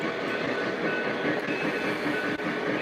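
A Lionel or MTH model train runs along the track on a home layout, a steady close rumble with faint clickety-clack of wheels over rail joints, continuous and fairly loud without any voices.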